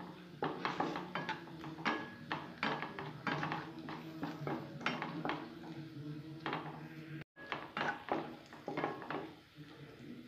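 Prawns in a pan being stirred together with cumin powder, coriander powder and salt, giving a run of close, repeated clinks and scrapes of a utensil against the pan in an irregular rhythm, with no talk.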